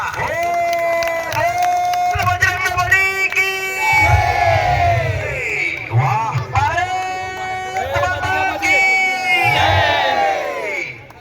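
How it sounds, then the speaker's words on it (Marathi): Large crowd at a village wrestling ground claps and cheers loudly and continuously, with shouting voices and an announcer talking over the noise throughout. "कणकणीने टाळ्या करा की टाळ्या"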